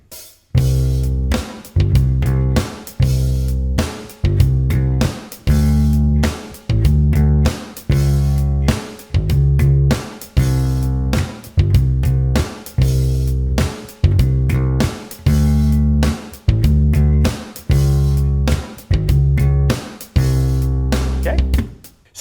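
A bass guitar riff anticipates the beat by a sixteenth note, its deep, punchy notes repeating in a steady syncopated groove that keeps looping loudly and alone.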